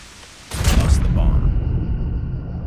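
A grenade detonates in a multiplayer shooter match, a sudden boom that gives way to a sustained low rumble lasting a couple of seconds.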